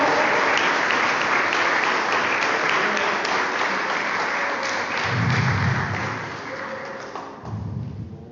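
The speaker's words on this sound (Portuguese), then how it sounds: "Aplauda o Senhor de todo o teu coração" Church congregation applauding during a worship service in Brazil, loud sustained clapping that thins and fades toward the end, with a few low thumps mixed in and no speech.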